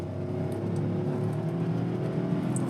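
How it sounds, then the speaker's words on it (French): A Mercedes G700 Brabus 4x4² engine hums and builds as the throttle is reapplied, a steady low drone heard from inside the cabin, fairly loud with no talking. "C'est vif par contre, quand je remets du gaz, ça part quoi."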